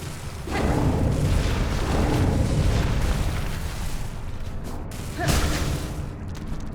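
An enemy explodes in the video game Silksong, giving two heavy booming bursts, one early and one late, each followed by a rumbling decay.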